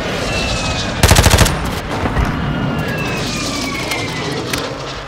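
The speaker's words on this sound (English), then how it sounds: "Hostile airstrike incoming" Video-game airstrike with rapid machine-gun bursts and booming explosions over a continuous roar of aircraft, loud and close, with a dense clatter of shots about a second in.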